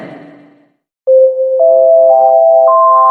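Telephone ringtone for an airport-themed call: after a brief muffled noise and a pause, a loud electronic tone steps upward in pitch over three notes, sustained and alone with no voices.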